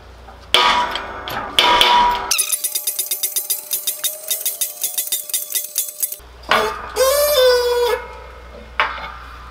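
Sharp metallic clanks, then a rapid series of ringing taps and creaks as a bushing is pressed into a pulley, followed by a few more clanks.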